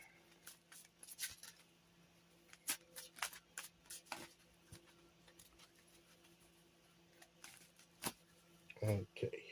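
Oracle cards are shuffled by hand in a quiet room, with a run of soft, irregular flicks and riffles and a brief louder rustle near the end.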